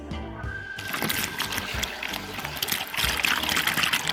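Water pours from a bucket onto a concrete test sample treated with a waterproofing additive, a loud steady splashing gush that continues throughout, nearby and without speech.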